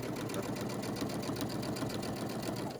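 A sewing machine stitches a fabric face mask, running steadily with a fast, even mechanical chatter that stays close and constant throughout with no pauses.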